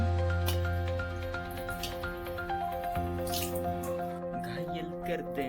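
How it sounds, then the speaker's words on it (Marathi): Water runs from a household tap in a close, trickling, dripping stream over a steady background hum, with faint voices nearby. "मस्त पाणी येते आता."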